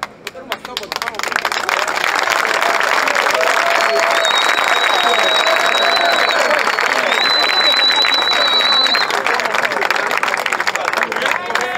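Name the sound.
crowd applauding at a vigil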